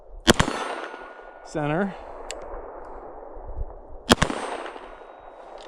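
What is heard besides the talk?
gunshots from OSIGHT X sighted gun hitting steel silhouette target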